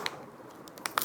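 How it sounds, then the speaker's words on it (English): Quiet crinkly rustling and a few sharp tearing bursts near the end as the plastic wrapper on an iQOO 12 5G phone box is ripped open close by. "I'll just open the wrapper from behind"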